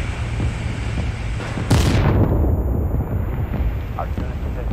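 In a war video game, an artillery round booms once, loud and sudden, then rumbles away over a constant windy roar of battle noise.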